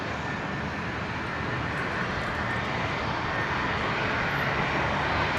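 A Jetstar jet airliner on its takeoff roll at Brisbane Airport, bound for Launceston, gives off a steady, loud, broadband engine roar that stays even and sustained throughout, with no talking over it.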